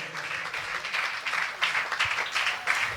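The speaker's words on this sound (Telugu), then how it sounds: "మనమందరం చప్పట్లు కొడుతూ దైవజనులను ఆహ్వానిద్దాం" Audience clapping to welcome preachers onto the stage at a Telugu Christian gathering, a steady, fairly dense wash of applause with small swells and no talk over it.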